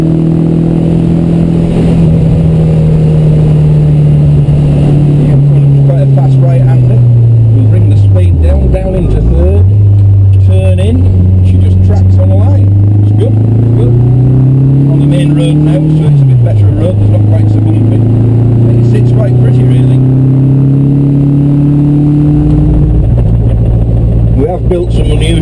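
A Fiat 500 fitted with a Subaru engine revs loud and close, a continuous droning engine note that dips sharply twice between throttle blips and climbs again, filling the whole stretch with no pause.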